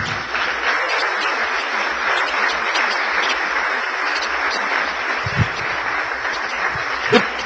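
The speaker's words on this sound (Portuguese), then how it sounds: "Quem crê, aplauda o Senhor." A church congregation at an Igreja do Evangelho Quadrangular service claps together, a continuous moderate roll of applause with a few louder thumps near the end.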